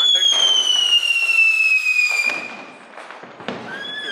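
Diwali firecrackers and fireworks go off at night, a long rising whistle followed by scattered bangs and crackles, loud and fairly close, with people talking underneath.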